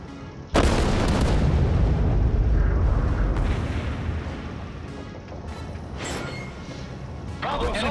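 Battleship main guns fire in the World of Warships naval game, a sudden heavy booming salvo that rolls and decays over several seconds, followed by fainter distant blasts and mechanical clatter.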